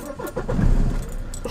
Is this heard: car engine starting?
yes